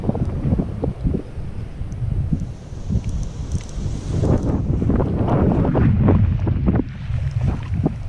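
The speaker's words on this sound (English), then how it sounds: "I'm so sorry for this wind." Wind buffeting a microphone beside a fishing pond, a steady rumbling roar that swells and gusts throughout, with scattered thumps and rustles.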